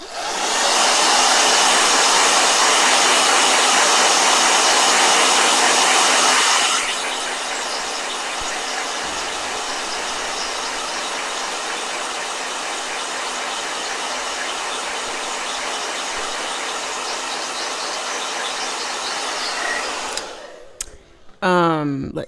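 Hair dryer blowing on a watercolor painting in a travel journal, a loud steady hiss that drops to a lower, softer setting partway through, then cuts off near the end with a brief clatter.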